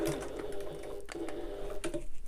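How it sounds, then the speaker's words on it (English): Domestic sewing machine back stitching along a seam while making a fabric wallet, a steady close whirring hum of rapid needle strokes with a few brief pauses and restarts. "so back down that same line again, back down to the bottom where I can back stitch again"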